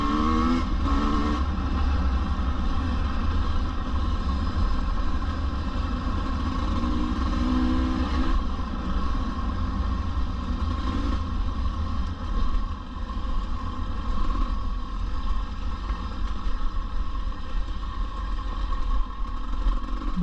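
A stock KTM 250 EXC 2024 dirt bike fitted with an FMF exhaust body runs steadily up close, a dense continuous engine drone with slight revs rising and falling across the whole stretch.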